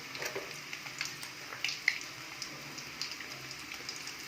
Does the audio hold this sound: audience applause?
no